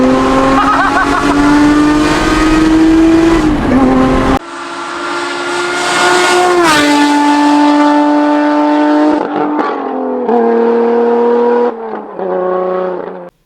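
A Lotus Emira engine revs hard and loud, rising and falling through several sharp sweeps in pitch with abrupt cut-offs between them.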